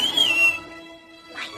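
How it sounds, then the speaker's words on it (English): A person gives one short whistle that rises slightly and then falls, close and clear, followed by quiet. "anytime you need me, just whistle. Like this."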